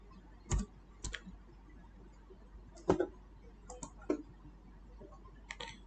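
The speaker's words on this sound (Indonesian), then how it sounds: "Saya ketikkan di sini" Scattered keystrokes on a computer keyboard during a programming lesson come as separate, fairly close clicks in an irregular rhythm with pauses between them, and no speech over them.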